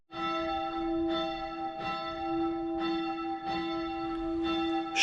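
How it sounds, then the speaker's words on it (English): A church bell in the Austrian Alps tolls in slow, even strikes roughly once a second, each ringing tone sustaining into the next. It sounds moderately near and carries on alone without any speech. "Or is there such thing as like an automatic bell system?"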